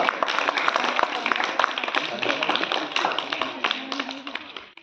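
A crowd claps steadily and densely throughout at a rangoli competition prize ceremony in Domakonda mandal centre, the sharp hand claps close and continuous with faint voices underneath.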